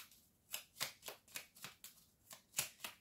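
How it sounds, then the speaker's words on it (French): Tarot cards are shuffled and drawn in a quick run of about nine crisp, papery riffles and flicks, evenly spaced and fairly quiet, with no voices. "On va prendre 3 cartes."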